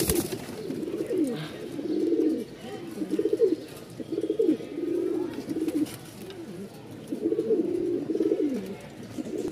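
White fancy pigeons with rose crests cooing in a loft, repeated soft low coos in close rhythmic bursts over faint background noise.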